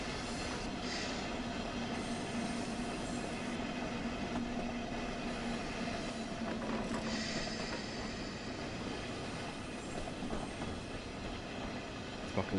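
A train in Train Sim World on the Ruhr-Sieg Nord line coasts toward a station with the throttle off at about 19 mph, with steady rolling rumble, rail clatter and occasional faint wheel squeal, alone and without talk.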